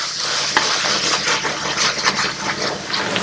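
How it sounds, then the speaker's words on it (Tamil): Ginger and garlic sautéing for mutton masala, a steady sizzle with repeated scraping stir strokes in the pan, close and fairly loud with no talking. "ஸோ நமக்கு இப்போ அரை பதத்தில் இஞ்சி பூண்டு வதங்கிக்கிட்டு இருக்கு"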